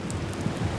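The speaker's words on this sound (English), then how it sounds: "It's raining outside" Rain falls outside in Brunswick County, Virginia, a brief, steady wash of hissing noise with a low rumble beneath it and no voices.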